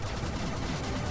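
Turret gunfire in the video game Blaster Master Zero, a steady, fairly quiet stream of rapid shots that keeps up through the whole brief moment.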